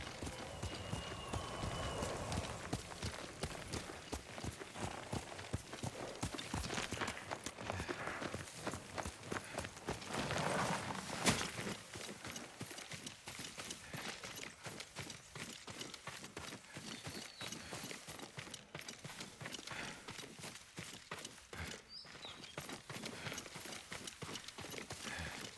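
Horse hooves clip-clop in a steady, quick rhythm from a mount in the video game Ghost of Tsushima, moderately close and continuous over a faint outdoor ambience.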